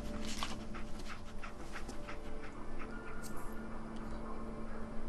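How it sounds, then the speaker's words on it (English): Dogmeat, the dog companion in Fallout 4, pants steadily with soft sniffs and faint whimpers, close and continuous against a low game ambience, with no talk. "Sniff this for me, please."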